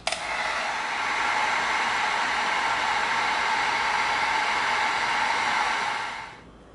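A heat gun blows on EVA foam, a loud, steady close-up rushing hiss that starts with a click and runs for about six seconds before cutting off and fading.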